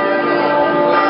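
Church bells ring out loud and continuous at a Slovenian village festival, dense overlapping metallic tones sustained throughout with no voices.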